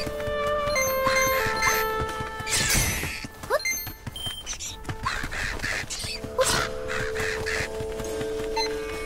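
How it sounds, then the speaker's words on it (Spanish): Crow cawing in Zelda: Echoes of Wisdom, harsh repeated caws that land in short bursts over game music with chiming tones, fairly loud and up front. "Y otro pájaro de mierda, eh."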